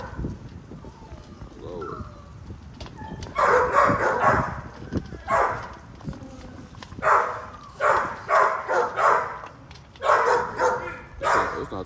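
XL Pitbull puppies barking and yipping in excited bursts, several close, loud clusters of high yaps repeating irregularly, with a voice heard earlier under the noise.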